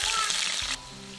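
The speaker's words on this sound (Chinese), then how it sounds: "油热，锅里面下姜和蒜" Ginger, garlic and chili pieces hit hot oil in a wok for a fish-stew base, giving a brief, bright sizzling hiss that cuts off abruptly, leaving a quiet hum.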